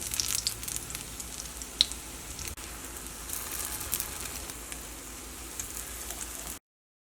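Appam made from leftover rice sizzles and fries steadily in a hot pan over high heat, a continuous close crackle of oil with no talking.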